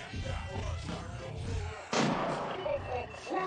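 Gunfire in an action movie scene set in Las Vegas: one sharp, heavy shot booms about midway over a rumbling low background, with muffled sound around it and no clear speech.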